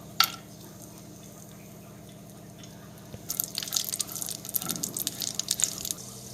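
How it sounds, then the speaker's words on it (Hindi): Almonds and halved cashews fry in ghee for carrot halwa: after a quiet start, a lively crackling sizzle breaks out, close and busy, with small pops scattered through it. "सबसे पहले हम बादाम को तल लेते हैं। आधे कटे हुए काजू को भी हम डालेंगे"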